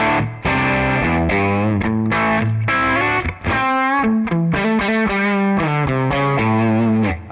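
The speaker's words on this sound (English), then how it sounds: "I am using my Vigier GV Wood with P90 pickups, really nice guitar with this particular tone model" Vigier GV Wood electric guitar with P90 pickups playing through a Tonex tone model with a touch of compression, a loud, driven melodic line of sustained notes and phrases with brief gaps, alone with no talk.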